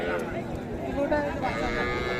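A cow gives a low, drawn-out moo amid busy crowd chatter at a cattle market in Raniganj, Dinajpur, the call short and somewhat buried in the surrounding noise.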